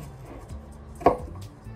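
A garlic clove is diced with a teeny tiny knife on a board, giving soft faint taps and one sharper cut at close range.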